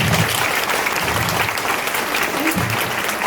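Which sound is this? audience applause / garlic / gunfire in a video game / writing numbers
audience applause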